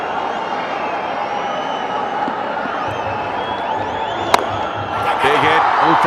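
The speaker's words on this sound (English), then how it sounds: "Plenty of excitement for the crowd here" At a Celebrity Cricket League match between Chennai Rhinos and Karnataka Bulldozers, a stadium crowd roars steadily after a big hit, with distant whistles and a sharp bang partway through, and the noise swells toward the end.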